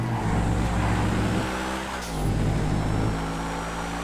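A Continental car driven in a video game role-play, its engine droning loud and close as it accelerates and shifts through gears, with the pitch dropping and climbing again, and no talking over it.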